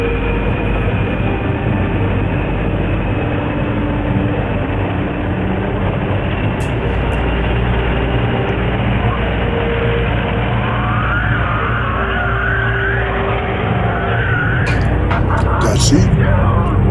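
A fighter jet engine runs up to full throttle, producing a loud, continuous roar with a rising whine that holds throughout, while excited voices speak over it near the end.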